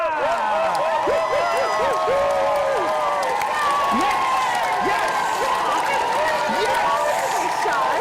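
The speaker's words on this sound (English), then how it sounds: "What a round of applause for you from the audience." Live studio audience applause fills a television variety show, a continuous loud crowd roar with clapping and whooping, while a host's voice and music-like tones carry over it.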